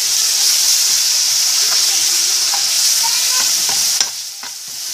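Eggplant fries in oil with garlic and is stirred in a pan, a loud steady sizzle with faint scraping of the utensil and a brief clatter near the end.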